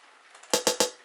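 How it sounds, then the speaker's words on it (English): A short closed hi-hat sample from a real drum kit, three quick crisp ticks in a row over faint background hiss. "a really short, real hi-hat from like a closed hi-hat on a real drum kit"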